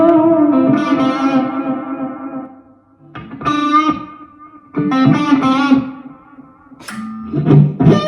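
Electric guitar played through a Positive Grid Spark 2 amp with reverb and distortion effects, several separate chords and notes ringing out with short silences between them, no talking.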